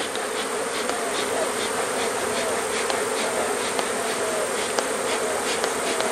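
Bees swarm around a beekeeper at a hive, a dense, continuous buzzing close by with individual insects whining past, with no talk.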